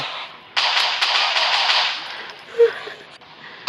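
Pistol shots fired at a wall in a first-person shooter game, a quick cluster of sharp cracks with debris clatter, fading into a quieter tail with a soft ping and a final crack.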